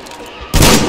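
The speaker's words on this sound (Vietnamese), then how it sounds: "Chỉ một viên shotgun của mình mà giết được kìa" A single loud, close shotgun blast from the post-apocalyptic video game Metro Exodus, going off suddenly after a quiet moment and ringing out with a broad, sustained boom.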